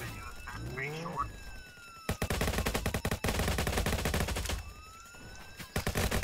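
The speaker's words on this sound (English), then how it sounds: "I'm being shot at, I'm being shot at." Video-game gunfire from Roblox Jailbreak breaks out in dense rapid bursts, loud and close, alongside a rising siren-like tone and other game sounds, with a voice talking early on.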